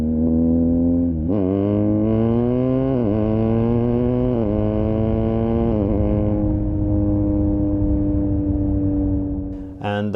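BMW R1250R motorcycle fitted with an aftermarket silencer, its engine note loud and close, with rising and falling rev sweeps that sound tinny and raspy before the motor settles to a steady drone.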